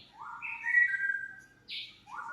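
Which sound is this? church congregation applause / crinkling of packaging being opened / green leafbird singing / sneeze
green leafbird singing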